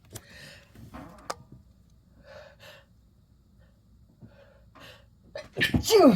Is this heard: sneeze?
yes